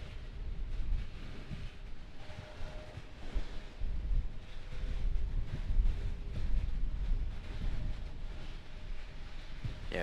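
Gusty wind drives rain against a microphone at an airport during a storm, producing a rough, continuous buffeting rumble with surging gusts, loud and close throughout with no speech.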